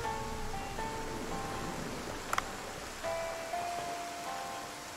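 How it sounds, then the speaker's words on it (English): Rain falls in the video game Dave the Diver, a quiet steady hiss of noise running throughout beneath soft game music tones and a brief clicking blip. "Yeah, it's raining. I get it."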